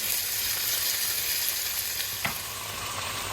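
Liver sizzling steadily in a pan over lowered heat, a continuous close frying hiss with a brief clink partway through and no voices.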